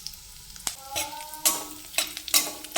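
Cumin, cardamom, cloves and bay leaf in hot oil in a wok for a peas dish sizzle close by while a spoon scrapes and stirs, giving several sharp rhythmic strokes over the bubbling.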